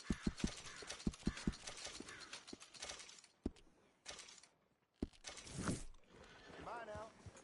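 Horse hooves clip-clop in Red Dead Redemption, a quick series of distinct hoof strikes up front, then sparser steps mixed with game sounds, brief gaps, and a voice talking near the end.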